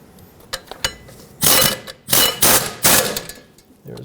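A hand ratchet turns rear brake caliper bracket bolts on a Dodge Grand Caravan, a few light clicks at first, then three loud bursts of rapid ratcheting, near and alone.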